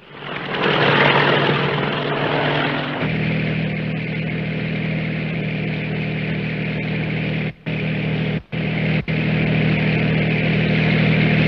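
A military helicopter in a 1955 war film drones with a steady, loud, low rotor and engine roar that continues throughout with only brief cut-outs, and no voices are heard.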